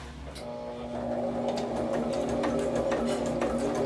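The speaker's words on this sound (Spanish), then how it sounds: "Entonces aquí acomodo muy bien que la aguja me dé a la mitad y hago mi costura." A sewing machine stitches fabric for a home-decor project, running steadily close by with a continuous mechanical hum and rapid needle clatter, no talking over it.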